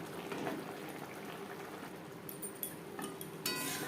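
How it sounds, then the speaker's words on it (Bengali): Maggi noodles simmer in chicken gravy in a pan, with a steady soft bubbling and a few light clinks of a utensil against the cookware, fairly quiet and close. "গ্রেভির সাথে আরও চার পাঁচ মিনিট রান্না করব যতক্ষণ না পর্যন্ত ম্যাগিটা নরম হয়ে যায়"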